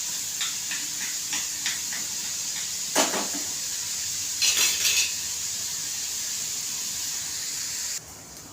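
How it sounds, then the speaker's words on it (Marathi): Onion fries in oil in a pan, browning for a bitter gourd dish. A steady, even hiss runs throughout, with a few quick metallic clinks and scrapes of a utensil near the start and middle, and no talking. "कांदा मध्ये टाकून त्याला लाल करून घ्यायचं आहे"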